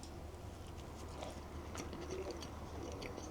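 Bread and egg bitten and chewed at a Kyoto market food stall, soft close-up mouth crunches and chewing over steady background market noise.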